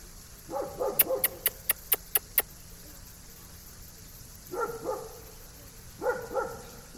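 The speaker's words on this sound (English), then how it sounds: "She won't stop. She just won't stop. Molly! No more barking." A dog barks in short bursts, three times, with a rapid run of sharp clicks between the first and second barks.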